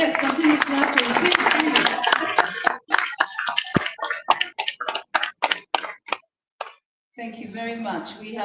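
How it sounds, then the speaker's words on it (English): Scattered, irregular handclaps from an audience at a Pan-Africanist event in Kenya follow a man's amplified speech, then fade into a few sparse claps before the talking resumes. "yes, continue clapping"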